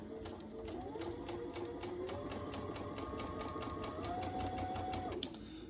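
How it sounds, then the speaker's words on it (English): A sewing machine stitches quilt pieces along a marked line, whirring steadily with rapid even needle taps for several seconds before stopping, up close and fairly quiet. "And then you would just sew directly on that line."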